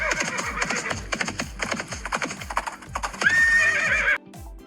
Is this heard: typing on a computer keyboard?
no